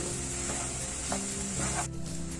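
Cooked rice is stirred with masala in a hot pan, giving a constant close sizzle with a few soft scraping strokes and a brief drop near the end; no talking.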